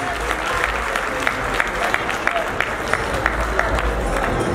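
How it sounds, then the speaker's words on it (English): A large crowd applauds steadily and densely, with sharp individual claps standing out, at a Ghanaian-Canadian community fundraising event for a heritage centre. "Let's give her a very big round of applause"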